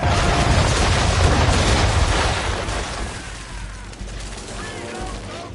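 Naval cannon broadside firing round shot in Assassin's Creed 3 Remastered, a loud rolling blast of many guns merging into one heavy roar that fades and thins out, with a smaller thump near the end.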